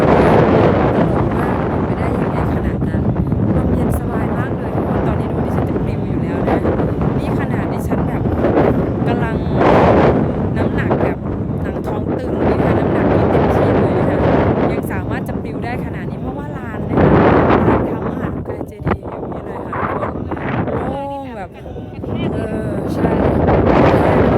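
Strong wind buffets the microphone in a steady, loud roar of low rumble and gusts throughout, with a few sharper blasts and soft speech faintly underneath.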